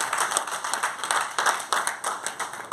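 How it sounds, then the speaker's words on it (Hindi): Audience at a business event in a Mumbai hotel bursts into loud, steady clapping that keeps going at an even pace with no pause, the claps crowding together into a dense roar. "एक बार फिर से जोरदार तालियां"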